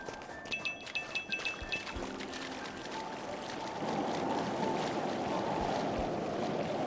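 Lake water in Xenoblade Chronicles 2: Torna laps and rushes as a steady ambient wash that swells louder midway, preceded by a few rhythmic soft pulses and brief game chimes.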